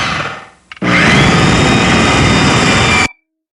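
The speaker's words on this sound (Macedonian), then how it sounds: "Звукот на дупчалката." A power drill bores into what sounds like wood, giving a loud grinding whine that kicks in after a brief fading start, holds for over two seconds, then stops cleanly.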